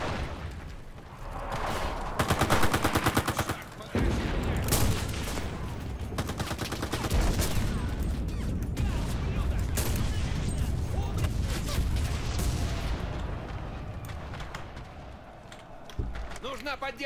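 Rapid bursts of gunfire in the video game Enlisted crackle continuously, with mechanical clicks and a voice talking over the shooting.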